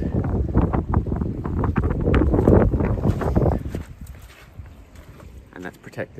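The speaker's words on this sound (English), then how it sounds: "that's the wind" Strong wind gusts over the Thames foreshore in London buffet the microphone with a loud rumbling roar that eases off toward the end, and muffled voice sounds may sit underneath.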